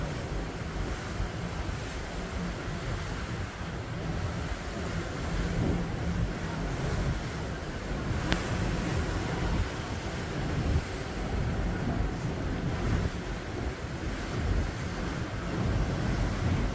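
Open ocean waves heard from a Royal Caribbean cruise ship bound for the Bahamas: a continuous broad wash of surf mixed with strong wind buffeting the microphone, steady and loud throughout, no voices.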